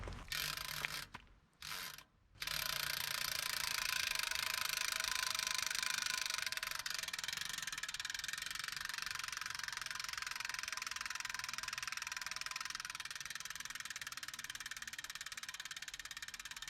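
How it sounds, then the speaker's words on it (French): The piston freewheel of a Boulhol R 2022 rear bicycle wheel spins at real speed, giving a fast, even, close ratcheting buzz that runs steadily after a couple of brief starts and stops, then slowly fades a little. "voici une petite démonstration du fonctionnement en vitesse réelle de notre roue arrière R 2022 et son fameux système de roue libre à piston"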